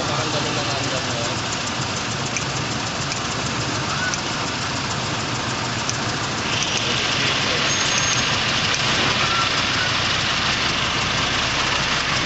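A gasoline Toyota Innova VVT-i engine with a misfire idles steadily and close up, a dense broadband running noise that continues throughout while people talk nearby.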